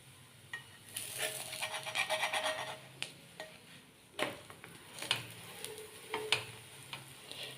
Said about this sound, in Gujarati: હું અત્યારે તેલમાં શેકી રહી છું